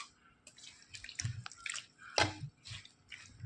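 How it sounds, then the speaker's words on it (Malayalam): Water is poured into a Kerala-style raw mango (kadumanga) curry in the cooking pot, giving a few short splashes and drips spread across a few seconds, close and fairly quiet. "ഉപ്പ് ചേർത്ത് കൊടുത്തിട്ട് ഇതിന് കുറച്ച് വെള്ളം ചേർത്ത് കൊടുക്കാം."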